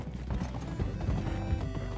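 A horse gallops in the video game Red Dead Redemption, its hooves beating a steady, rapid clip-clop close up and continuous, with no voices over it.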